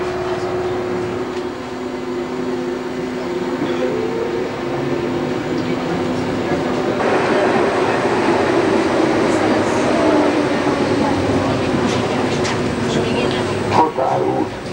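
Ganz G2 metro train running on Budapest's M3 line, heard from inside the car as a steady, loud rolling rumble and hiss that swells louder partway through, with brief clicks near the end.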